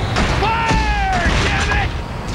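Gunfire and explosions crackle through a Killzone video game battle, with sharp shots and booms rising over a busy background. A voice shouts over the fighting.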